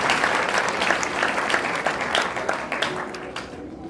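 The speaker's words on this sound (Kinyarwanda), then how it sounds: "nagira ngo mumwongere amashyi mukagira imana" Wedding audience applauding at a celebration, sustained dense clapping from a crowd close by, with a voice faintly present beneath it.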